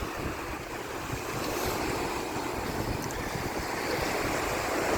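Waves wash onto a beach at Pescara on the Adriatic Sea as a steady, full roar of surf, close and continuous, mixed with wind rumble against the microphone and no talk.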